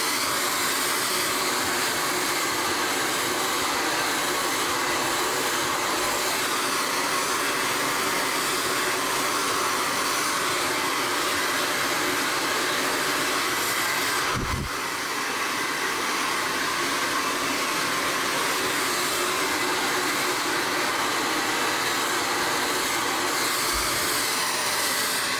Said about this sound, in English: I'm gonna blow dry it.